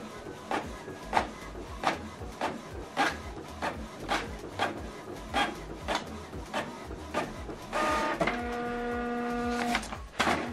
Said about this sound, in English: So the second page is printing.